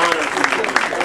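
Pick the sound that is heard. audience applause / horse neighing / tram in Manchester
audience applause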